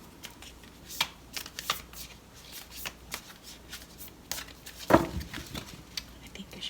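Oracle cards are shuffled by hand in quick flapping riffles and soft slides, close up, with a sharper snap near the middle.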